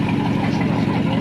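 Vintage car around 100 years old idling nearby, a steady, loud low-pitched engine rumble with no break.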